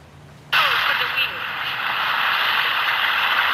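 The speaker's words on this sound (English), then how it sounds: "There's a waterfall in here." A waterfall in the game Avowed rushes as a broad continuous roar that comes in abruptly and holds steady, loud and close, after a quiet opening.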